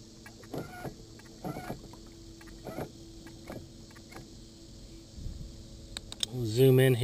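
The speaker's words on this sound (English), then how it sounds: "So I'm going to steer the boat" A small boat moves across water as it is steered toward a GPS waypoint, with intermittent soft splashing and wash over a faint steady hum, and a louder tonal sound at the end.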